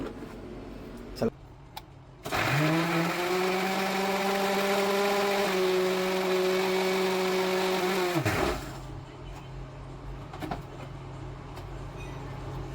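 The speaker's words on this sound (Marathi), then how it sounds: "आता ह्याला मस्त मिक्सरला वाटून घेतो" A mixer grinder purees tomato and onion in a loud, steady whir lasting about six seconds, then cuts off, with quieter kitchen sounds before and after.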